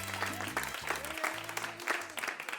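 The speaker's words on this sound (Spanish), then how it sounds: "La gente aplaude educada." Polite applause from a fashion parade audience, steady clapping running under strong background music with a melodic line throughout.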